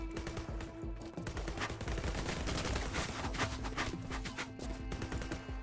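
Shotgun fire in the Ninja Simulator video game, a dense loud volley of rapid overlapping blasts that runs continuously for several seconds with no pauses.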